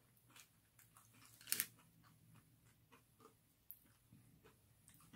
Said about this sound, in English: I bit right into a chip.